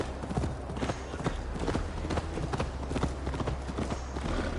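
A horse ridden in Assassin's Creed Valhalla clip-clops at a steady trotting rhythm, the close hoofbeats continuous over a low ambient hum.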